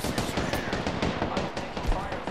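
Gunfire in a battle royale video game battle, rapid bursts of automatic shots crackling densely over the whole moment, loud and close with a voice talking.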